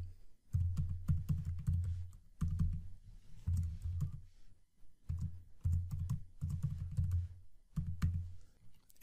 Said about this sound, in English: So we'll add Mike McDermott's username here.